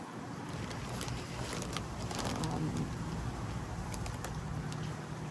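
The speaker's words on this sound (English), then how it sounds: "The trick is to fight the wind." Wind blows outdoors across the microphone during plant potting, a steady loud rushing roar with gusty swells and faint rustling, no talk.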